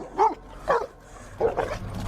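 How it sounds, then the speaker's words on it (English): Aggressive dogs barking in three sharp, close bursts separated by brief pauses, loud and tense with no voices. "I can tell by the sound of their bark that they are ready to attack."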